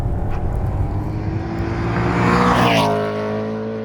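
A rare supercharged BMW M3 E46 sedan with an ESS centrifugal supercharger roars close by, its engine note rising and swelling through revs, then settling into a steady loud drone.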